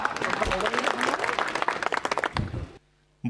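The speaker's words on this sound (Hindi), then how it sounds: "आपकी तालियां यशोदा के जवाब पे चाहिए" Audience applause at an Indian stage performance rises as a busy patter of many hands with voices mixed in, thins into separate claps, then cuts to near silence before a brief return of sound.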